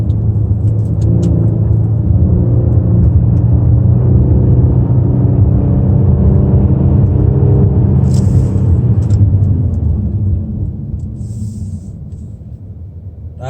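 A 2019 Kia Stinger GT on winter tires downshifts and accelerates through a turn, its engine a loud, steady low rumble heard from inside the cabin that eases off toward the end, with faint clicks and ticks over it.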